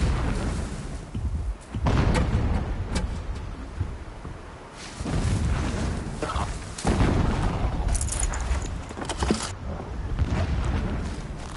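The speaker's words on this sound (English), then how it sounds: "Explosions in the distance." Distant explosions in the Horizon Zero Dawn video game, several low booming thuds and rumbles rolling through a steady noisy background, with bursts that swell and fade over time.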